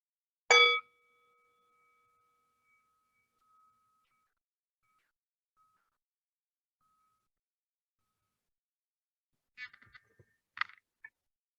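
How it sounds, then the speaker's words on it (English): A single bright bell strike rings out and fades slowly into silence, followed near the end by a few soft clinks and taps. "we'll begin and end our practice time with the sound of a bell."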